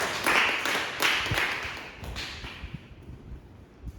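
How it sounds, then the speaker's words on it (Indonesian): Students in a classroom give a short round of applause for a discussion group, with scattered claps and taps that fade quickly into quiet. "mungkin kita bisa berikan tepuk tangan untuk kelompok 2"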